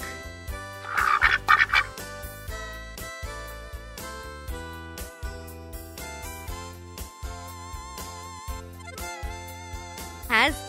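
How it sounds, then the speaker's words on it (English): Duck quacking for a children's environmental studies lesson on animal sounds, heard as a few quick nasal calls early on, set over a bed of tuneful background music. "Duck."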